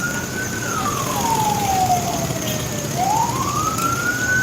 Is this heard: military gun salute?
no